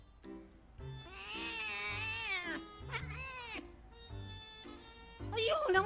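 A cat meows repeatedly at close range, drawn-out plaintive cries with short pauses, ending in a louder, strained yowl.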